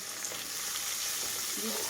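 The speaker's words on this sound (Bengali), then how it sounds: "এখন একটু এগুলো ভাজা ভাজা করে নিই" Steady, crackling sizzle of onions and chillies frying in hot oil, continuous and close, with faint stirring sounds.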